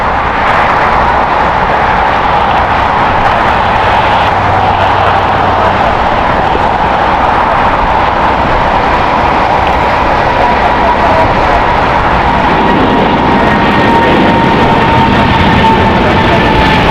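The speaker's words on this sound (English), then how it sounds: "It's a Boeing 777-200ER, 21 years old." Boeing 777-200ER jet airliner at an airport, a loud, sustained engine roar with steady broadband rushing and a faint rising whine near the end, heard over wind.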